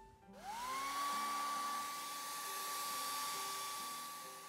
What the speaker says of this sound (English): let's blow dry that